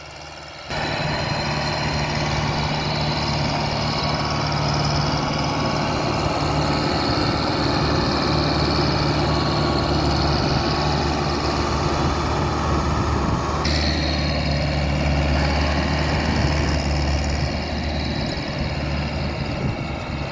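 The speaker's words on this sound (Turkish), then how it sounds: "Şu anda komşum geldi traktörüyle" An old Steyr 8073 tractor engine idles at steady, loud volume on a village farm field, with a continuous low rumble and drone and no speech.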